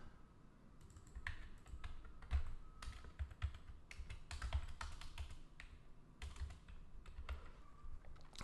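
Quick, close clatter of computer keyboard keys as ActionScript 3 code for a Flash pinball game is entered, irregular clusters of taps separated by short gaps, with no voice.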